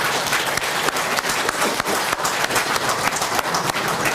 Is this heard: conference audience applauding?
yes